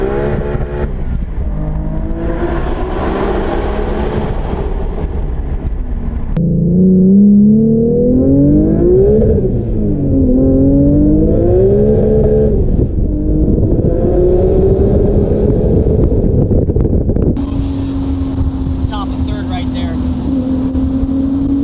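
A turbocharged 1027-horsepower Lexus IS300 sleeper accelerates hard through several gears, its engine pitch climbing, dropping at shifts and climbing again, loud and close from inside the car, with occasional voices over the roar.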